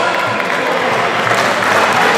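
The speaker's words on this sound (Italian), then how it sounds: "Fate un applauso ad Andrea," Audience applause at a slalom race prize giving, a burst of steady clapping from a crowd, fairly loud and close throughout.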